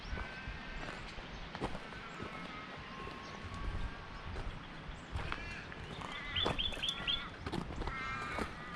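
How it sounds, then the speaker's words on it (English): Crows caw on an outdoor walk in Australia, faint and distant, several short calls near the end over a steady wash of background noise. "Crows."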